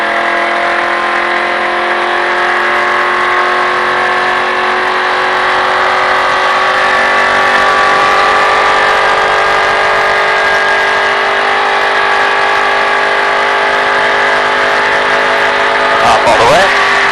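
Car engine held at a steady, loud drone with strong harmonics, pitch rising slightly as the throttle opens gently, running continuously with a brief surge near the end.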